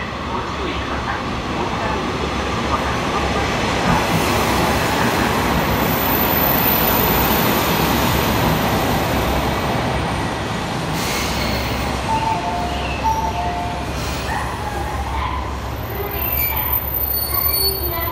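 A train pulls into a platform at Kochi Station, its wheels squealing loudly against the rails over a dense, continuous rumble that stays close and steady throughout.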